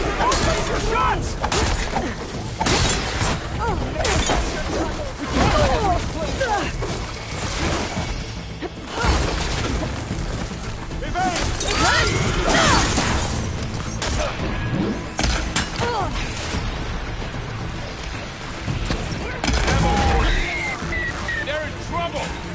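Gunshots and crashing combat noise in Horizon Forbidden West, a dense, loud, continuous battle mix with machines attacking, heavy impacts and bursts running throughout under dialogue.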